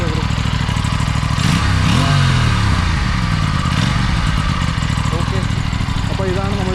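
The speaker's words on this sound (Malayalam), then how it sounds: "അപ്പോൾ ഇതാണ് നമ്മളുടെ എക്സോസ്റ്റ് നോട്ടിൻ്റെ കാര്യം" An Aprilia RS 457 with an underbelly exhaust runs close by, its loud, throaty parallel-twin note rising and falling through a few revs over a rumbling idle.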